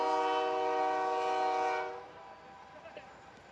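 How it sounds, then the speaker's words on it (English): A train rolls past near a baseball field in Marshalltown, Iowa, its steady rumble and horn-like tonal drone loud at first, then fading off sharply after a couple of seconds. "Trains going by."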